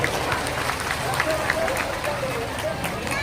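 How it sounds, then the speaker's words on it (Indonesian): A crowd at a religious gathering with a governor present claps together, a continuous patter of many hands mixed with crowd murmur and a few voices. "Tepuk tangan untuk kita semua dan Pak Gubernur"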